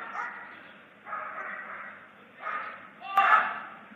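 A trained guard dog barks in short bursts while protecting a bag at a public dog show, four loud close barks separated by brief pauses.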